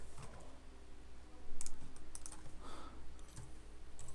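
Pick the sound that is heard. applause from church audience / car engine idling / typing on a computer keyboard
typing on a computer keyboard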